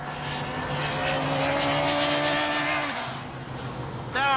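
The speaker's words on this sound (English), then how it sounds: "Now I'm riding the fabled Yamaha R1" A Yamaha R1 sport motorcycle engine drones steadily while riding, loud and close, its pitch holding then dropping as revs fall, with a sharp rising whine as it revs again at the end.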